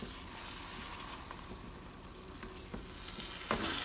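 Jollof rice cooking in a pan and being stirred up from the bottom, with a soft continuous sizzle and several short scraping knocks of the spoon, growing a little louder toward the end.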